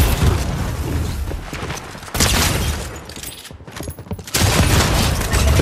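Shotgun blasts and heavy gunfire in a Fortnite solo Reload match, loud booming shots in dense bursts with a brief lull midway before firing resumes, no talk over it.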